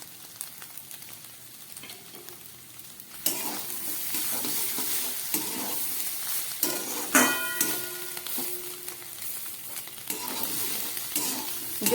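Mixed vegetables with salt, turmeric and egg sizzle in a frying pan, a steady loud fry with rhythmic scraping and stirring strokes and a few clinks of utensil against the pan, no talking.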